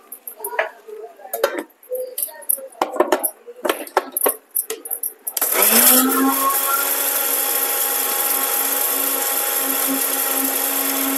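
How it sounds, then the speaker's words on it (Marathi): Roasted whole spices ground in a mixer grinder for mango pickle: first scattered clinks and rattles as the spices are handled, then a loud, steady motor whine that runs continuously to the end. "खडे मसाले भाजलेले हे बारीक करून घ्यायचे"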